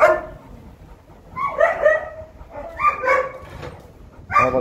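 A wolf dog barks and yelps loudly and close by in several excited, uneven bursts, with high whimpering tones between the barks.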